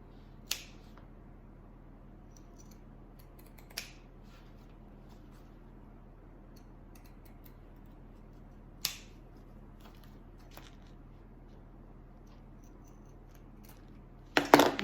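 Scissors or pinking shears snip threads on a quilt block, giving a handful of sharp, isolated clicks spaced several seconds apart in a quiet room, with a quicker cluster of snips at the very end.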